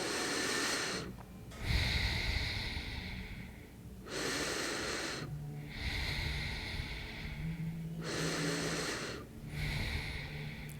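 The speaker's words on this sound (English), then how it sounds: "Take 3 big inhales and exhales." Deep, slow breaths during a yoga therapy session, with three long inhales and exhales alternating evenly, each breath a loud, close, airy rush separated by brief pauses, and no talking.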